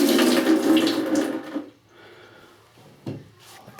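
Water gushes from a Delta Universal MultiChoice tub and shower valve as pressure is relieved, a loud rushing stream that cuts off after about two seconds, followed by a couple of brief clunks.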